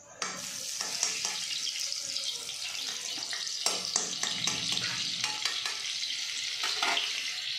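Butter melts in a generous amount of hot oil for pav bhaji, giving a steady soft sizzle with scattered clinks and stirring scrapes, close and moderately quiet.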